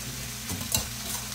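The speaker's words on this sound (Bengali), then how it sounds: "এখন নেড়ে চেড়ে ব্রকলিগুলোকে ভালোভাবে ভেজে নিব।" Boiled broccoli frying in mustard oil in a pan hisses softly and steadily. Two brief scraping stirs come through close up, with no voices.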